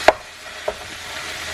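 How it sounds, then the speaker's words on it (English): A wooden spoon breaking up ground beef in a pan gives two short knocks about half a second apart over a faint background hiss. "So here we are breaking up the meat with a wooden spoon."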